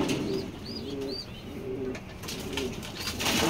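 A red-eyed racing pigeon coos nearby in a loft, giving several soft, repeated low warbling calls in a rolling rhythm over light background noise, with no speech.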